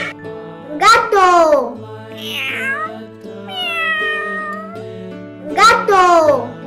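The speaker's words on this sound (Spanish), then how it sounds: "Gato." A domestic cat meows loudly and close, two drawn-out calls with a softer rising mew between them, over a low steady hum and no talk.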